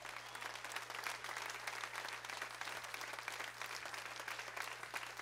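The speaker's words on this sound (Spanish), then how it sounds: "Ahí va un aplauso." A church congregation applauds, a soft, dense wash of clapping heard from a distance with a steady low hum underneath.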